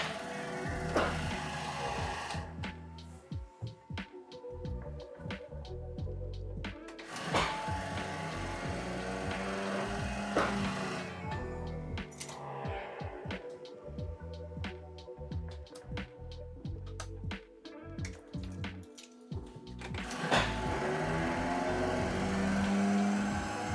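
A Tatra 815 truck's starter motor cranks on a cold start after sitting more than a year, a loud rough mechanical whirring and grinding that surges in several long bursts with brief pauses, close by and without the engine catching.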